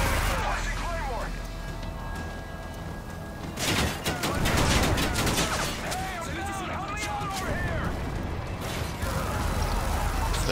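A sentry gun in MW3 Survival mode fires in rapid bursts amid explosions and mechanical clatter, loud chaotic gunfire continuing throughout with game voices over it.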